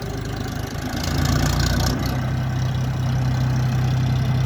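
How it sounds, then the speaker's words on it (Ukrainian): The three-cylinder diesel engine of an Orion RD-244 mini tractor idles steadily with a low, even throb, rising slightly in level after the first second and holding constant; no talking. "трьохциліндровий дизельний двигун"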